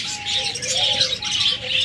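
A pair of rainbow budgerigars at a bird shop chirps and warbles continuously in high, busy twittering, close and fairly loud, with no talk.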